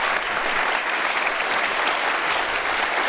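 A room of people applauds for campaign staff at a 2016 campaign event, with sustained, even clapping at constant strength for the full stretch and no talk over it.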